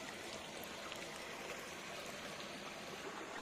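Clear water flowing out from between rocks, a faint, steady trickling wash with no breaks, heard alone.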